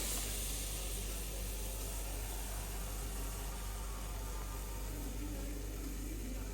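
Chopped onions hitting hot oil with bay leaf, cloves and cardamom in a pan, a loud continuous broadband sizzle and hiss that stays level throughout, with no talking over it.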